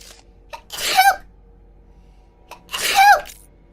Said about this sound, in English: Oh, I really gotta sneeze.